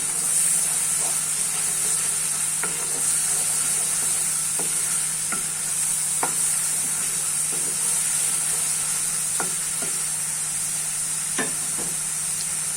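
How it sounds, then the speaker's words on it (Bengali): Spice paste with ground coriander and garam masala frying in oil for an egg curry, under a constant loud sizzle and hiss, with regular scrapes of a spoon against the pan and no talking. "গরম মশলার গুঁড়া সব কিছু আমি দিয়ে দেবো দিয়ে মশলাটাকে আমি আর একটু ভালোভাবে কষিয়ে নেব"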